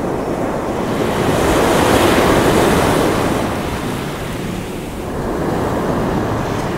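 Ocean waves breaking against a large coastal rock at sunrise, a loud roaring surge that swells and eases with wind buffeting the microphone, and no voices.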